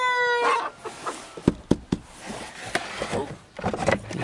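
Chickens and roosters on a farm, with a rooster crowing at the start, followed by a scatter of clucks and short calls at varying distances, fairly close and loud.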